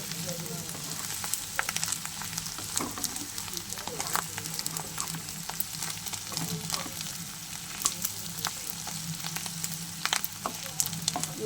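Fish roe fries in oil in a pan, crackling and spitting with sharp sizzling pops at an irregular pace, close up, as a voice speaks over the sizzle.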